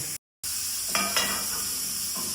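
Green turmeric curry with yogurt being stirred as it cooks in ghee, a continuous sizzle broken by a couple of scraping spoon strokes after a brief silent gap at the start.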